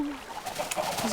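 Chickens clucking in the Minecraft video game, a few short, soft clucks and coos over a faint background, brief and fairly quiet.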